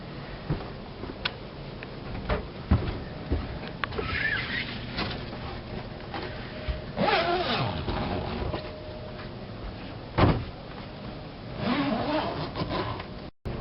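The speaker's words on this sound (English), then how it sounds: "Just zip them all the way down." Curtain zippers on a Starcraft pop-up camper are pulled all the way down in several long, rasping strokes, close and fairly loud, with scattered clicks and rustles between pulls.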